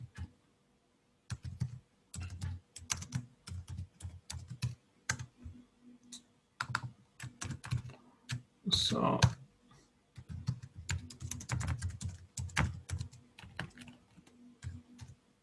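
Someone types a password on a computer keyboard, bursts of quiet, close key clicks with short pauses between them and one louder clatter partway through.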